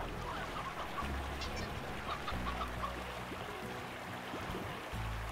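Chickens cluck and squawk in the Slime Rancher farming game, short fowl calls and honk-like cries repeating over a low droning musical background.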